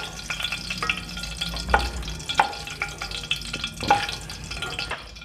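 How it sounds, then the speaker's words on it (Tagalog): Tenderized pork chop steak fries in a pan, its sizzle broken by a few louder scrapes and knocks from stirring, close and with no one speaking. "Magpa-fry tayo, pa-fry na natin guys yung aking pinalambot na steak"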